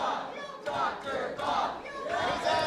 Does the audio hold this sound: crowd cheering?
yes